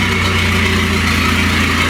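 A Citroën C5 idles with its exhaust running straight from the turbo and no catalytic converter, giving a steady, loud, close, low rumbling drone with no change in pitch.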